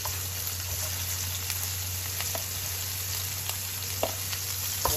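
Garlic and onion sautéing in a pan, a dense, steady sizzle running throughout with a constant low hum beneath and occasional faint clicks of stirring. No voices.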